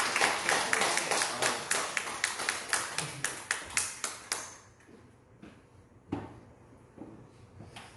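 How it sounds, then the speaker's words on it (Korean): A church congregation at a Sunday worship service claps in a brisk, rhythmic burst of sharp hand claps that continues for several seconds, then stops, leaving a quiet room with a few scattered knocks. "박수 한번 해주시죠."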